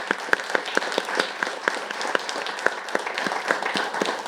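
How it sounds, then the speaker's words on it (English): Audience applause at a debate event, a sustained bed of crowd clapping with a steady, evenly spaced beat of sharp claps cutting through, moderately loud and continuous throughout. "can I give them another round of applause?"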